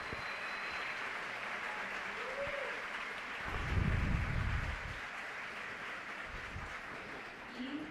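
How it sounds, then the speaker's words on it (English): Audience applause at a poetry panel event, a steady broadband patter of clapping filling the hall, swelling briefly in the middle before settling back to a sustained wash. "A round of applause for both of them once again."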